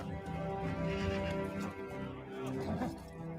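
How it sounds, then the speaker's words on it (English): A horse whinnies in a drawn-out, wavering neigh over a busy background with faint voices, moderately loud and close. "Way too many horses."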